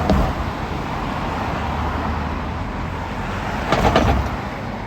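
A van rolls over a manhole cover on a road with steady traffic noise, giving a brief metallic clunk and rattle near the end over the continuous rumble.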